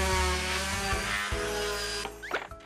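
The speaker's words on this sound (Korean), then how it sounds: "온 집안에 울려 퍼지는 기계 소리. 집사가 나무를 잘라 무언가 만들고 있는데요." A power tool cuts through wood in a house, a steady loud whine with a rising pitch sweep near the end as the blade bites, no voices.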